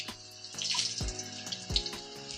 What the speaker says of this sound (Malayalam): എണ്ണ ചൂടായി വരുമ്പോൾ കടുകിട്ട് കൊടുക്കണം കടുകിട്ട് കൊടുക്കാം